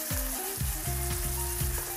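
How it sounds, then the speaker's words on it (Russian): Onion fries in a pan for a Korean cucumber salad, a steady close sizzle and crackle with faint stirring and no talking. "Лук нужно довести до золотистой корочки. Желательно его нужно жарить"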